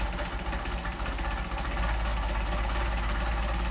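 Mercedes 190SL engine with machined Solex carburetors idling very low at about 400 RPM, a steady, deep rumble heard up close with no other sound.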